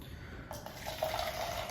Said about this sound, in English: So we're going to do 60 grams of hot water.